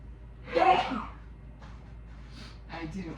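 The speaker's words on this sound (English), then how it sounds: "I didn't want to sneeze in the towel" A single close, sharp sneeze from a woman during her morning routine, a sudden burst with a brief gasp before it, followed by quiet breathing and low movement.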